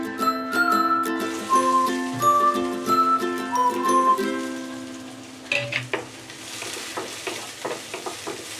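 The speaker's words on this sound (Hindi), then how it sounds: "ऑयल गरम हो गया, इसमें हम प्याज डाल देंगे।" Onions dropped into hot oil for a spicy masala pasta, a bright sizzle over which a metal spoon clinks and scrapes, with a clear ringing tonal hum in the first half that gives way to louder, choppier stirring, with no one talking.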